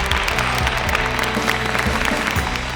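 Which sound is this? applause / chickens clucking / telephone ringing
applause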